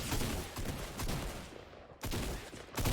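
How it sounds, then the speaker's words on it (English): Tactical shotgun fire in a Fortnite fight, a few loud, close blasts with rough, noisy tails, separated by brief pauses. "Most of these tac shotgun fights come down to whose gun does the most damage."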